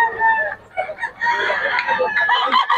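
Bull stag fighting roosters crow repeatedly at a poultry sale in Bocaue, overlapping cock-a-doodle-doos mixed with clucking, loud and close, with faint voices in the background.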